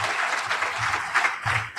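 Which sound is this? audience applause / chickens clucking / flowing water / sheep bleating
audience applause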